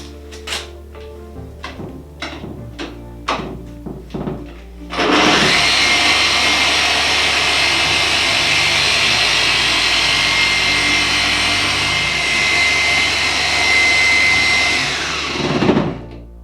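A machine polisher fitted with a microfiber cutting pad works a coated test panel, first tapped lightly a few times, then spinning up into a loud, continuous whir for about ten seconds before winding down.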